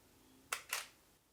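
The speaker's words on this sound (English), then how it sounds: "that was a second gap between the shutter opening and closing" Camera shutter during a night photography demonstration: two quick, faint clicks in close succession over low background hiss.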